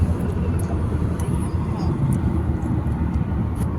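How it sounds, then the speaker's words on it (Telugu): An airplane passes low overhead near a road in Jahra, Kuwait, a broad, steady roar that stays fairly loud throughout, mixed with road and vehicle rumble and faint voices. "విమానం అయితే వెళ్తుందండి చూడండి విమానం కింద వెళ్తుంది"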